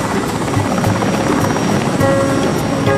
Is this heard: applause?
no